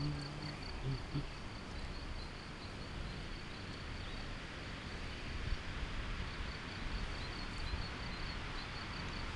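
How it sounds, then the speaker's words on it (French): Faint, steady high insect trilling, like crickets, runs throughout a quiet outdoor background. "Les grillons chantent"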